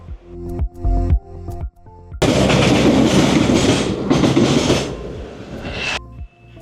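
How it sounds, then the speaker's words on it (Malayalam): A train passing through Tripunithura railway station: a loud, close roar of rolling wagons with rhythmic clickety-clack and wheel noise, framed by tonal horn or rail sounds before and after, with no talking. "നമ്മളിപ്പോൾ കാണുന്നത് തൃപ്പൂണിത്തറ റെയിൽവേ സ്റ്റേഷനാണ്"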